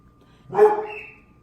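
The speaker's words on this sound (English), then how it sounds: "I gotta pause because of the dogs." A single dog bark rings out close by against a quiet indoor background, one short sharp burst that trails off quickly.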